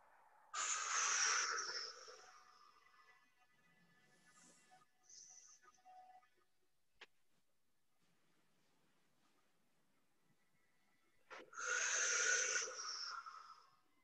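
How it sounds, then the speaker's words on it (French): Deep breathing during a Pilates workout on a mat: two long, loud breath sounds near the mic at the start and end, with quiet rustles and faint movement noises in between. "encore 2 belles respirations"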